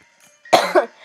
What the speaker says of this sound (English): I'm like coughing a lot